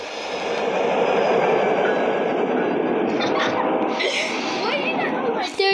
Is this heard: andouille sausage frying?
no